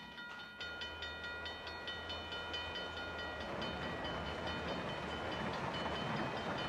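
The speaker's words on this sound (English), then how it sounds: "Trains haul lumber, grain, and coal for export." A freight train hauling lumber, grain and coal rolls along a railway through the Gitksan Reserve, its low rumble and rhythmic wheel clatter building steadily with ringing metallic tones, heard from a moderate distance with no voices.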